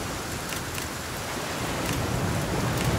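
Steady rain falls in the survival game The Flame in the Flood, a dense continuous hiss with faint patter, moderately loud and unbroken throughout, with no talking.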